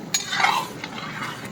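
Pumpkin and potato curry stir-fried in a pan, with quick spatula scrapes and stirring strokes over a faint sizzle, short and close.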